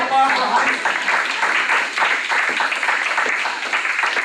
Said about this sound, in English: Give a nice round of applause for Mike.